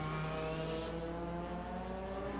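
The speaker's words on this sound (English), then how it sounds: "They're heading for first turn, braking." Late-1970s Group 5 race cars of the 1978 DRM championship at the Mainz-Finthen airfield circuit, several loud engines droning close together as they brake into the first turn, with a possible brief lock-up squeal and no talk.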